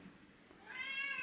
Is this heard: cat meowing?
yes